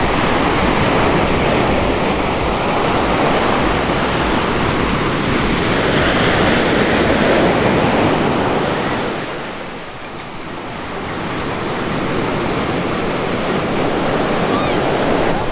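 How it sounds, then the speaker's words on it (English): Ocean surf at Sayulita, Mexico, where surfers ride, roars as a steady, loud broadband wash of breaking waves, dipping briefly near the middle before swelling back, with no voices. "we'll go and check out some surfers, see if we can watch someone catching a wave there"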